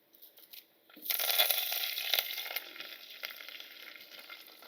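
Spices, lentils, dried chillies and curry leaves frying in oil for a tempering, a brief quiet lead-in before a sudden hissing sizzle bursts up and carries on steadily, close by with no talk.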